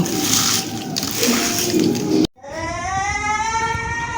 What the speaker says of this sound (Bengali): এখন সুন্দর করে এটাকে মিক্সড করে নিব